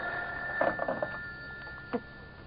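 An old telephone rings with a steady bell tone against a faint background hiss, followed by a short second burst.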